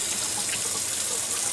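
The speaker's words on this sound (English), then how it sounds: "let's go over and wash my hands up and see how the soap does first." Water from a tap runs steadily over hands at a sink, a continuous close hissing splash with no pauses and no talking.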